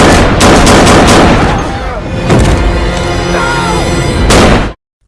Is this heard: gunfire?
yes